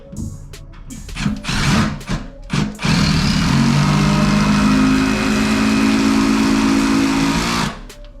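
Power drill driving screws while a shower door is installed, starting with a few short bursts and then running as one loud, steady whirring drive for about five seconds before it stops.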